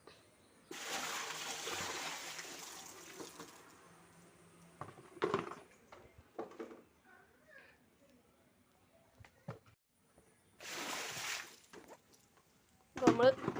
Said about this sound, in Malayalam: നമ്മൾ വെള്ളം കളയാണ്.